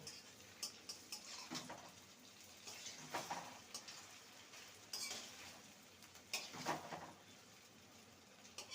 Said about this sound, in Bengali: উল্টে পাল্টে লাল করে ভেজে নেব